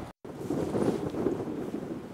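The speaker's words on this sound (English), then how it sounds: "And it's windy." Wind buffets an outdoor microphone at a rifle-testing spot, a low, steady rumbling roar that drops out for a moment at the very start.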